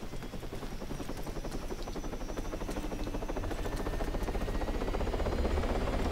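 Helicopter in the video game ARMA 3, its rotor chopping in a fast, steady rhythm with a loud engine whine that grows slightly stronger over the clip.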